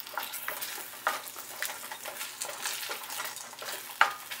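Kurma spice paste sautés in hot oil for a vegetable kurma, a soft steady sizzle broken by the scrape of a spoon against the pan, with one sharper utensil clink near the end.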